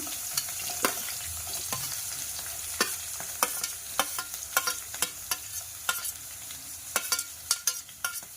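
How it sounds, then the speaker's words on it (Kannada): Onions and green chillies stir-fry in a pan with a soft continuous sizzle, broken by frequent sharp scrapes and taps of a spatula, close and fairly quiet. "ಇಷ್ಟು ಹಾಕಿದ್ಮೇಲೆ 1-2 ನಿಮಿಷ ಫ್ರೈ ಮಾಡಬೇಕು"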